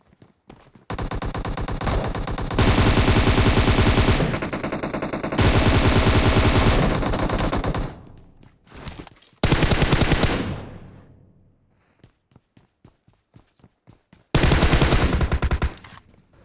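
Gunfire in a battle royale video game squad fight: long sustained bursts of automatic fire, several seconds each, separated by short pauses and scattered single shots, loud and close with no talk.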